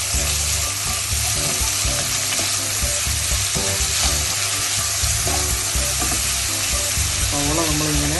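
Sliced onions with jaggery, fennel and cardamom fry in a pan for Kerala-style chicken curry and are stirred. The sizzle is loud and continuous, with scraping stirs and music playing beneath.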